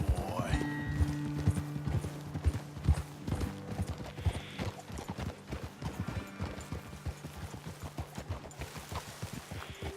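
Horse hooves clip-clop steadily in Red Dead Redemption 2, a close, rhythmic clatter of several hoofbeats per second lasting throughout, with a brief neigh near the start and music underneath.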